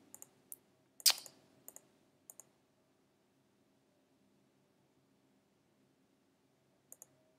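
A computer mouse clicks in a quiet room, a few scattered sharp clicks in the first couple of seconds, one louder than the rest, then a long pause and a final quick pair.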